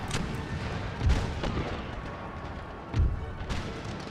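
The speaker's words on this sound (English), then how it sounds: "my 12-pounder cannons with their canister shot is just ripping up their infantry" Twelve-pounder cannons loaded with canister shot fire in an Empire: Total War battle, two heavy booms landing a couple of seconds apart over a busy rumble of distant gunfire and clatter.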